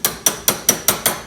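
Six sharp metallic taps from a socket extension striking the heater box lever on a Volkswagen Beetle Type 1, evenly spaced about a fifth of a second apart, close and clear with no talking.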